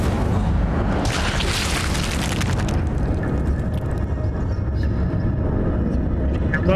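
A fiery spell in the video game Hogwarts Legacy erupts with a loud whooshing burst of flame, then fades into a rumbling game background.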